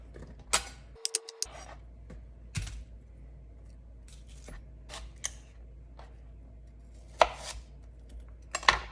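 A knife slicing portobello mushrooms in half on a cutting board, giving a handful of soft, separate cutting taps spread across the stretch, close but fairly quiet over a low background hum.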